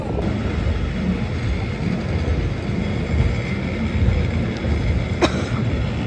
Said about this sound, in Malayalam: ട്രെയിനിൽ കയറി പൊക്കോണ്ടിരിക്കുകയാണ്.